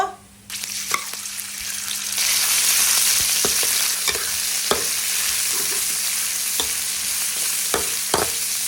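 Garlic and pork frying in oil in a pan: a loud steady sizzle after the food drops in, punctuated by regular clacks of stirring.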